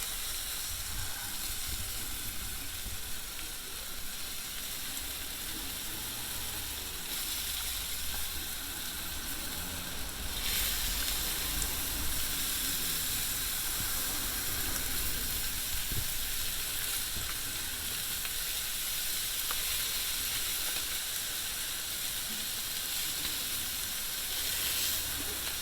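Chicken sizzles loudly and steadily over an open fire pit as barbecue sauce is mopped on, giving a continuous hiss with no voices.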